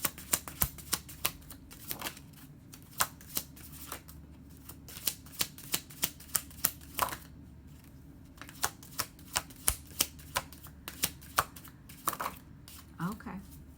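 Tarot cards are shuffled and pulled from the deck for a reading, giving a close run of crisp card flicks and riffles in a steady stream of soft clicks, with a voice speaking now and then.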